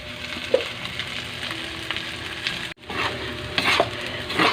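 Malunggay fried rice stirred in a pan, with continuous sizzling and frying and scraping strokes of a utensil against the pan throughout, close and clear.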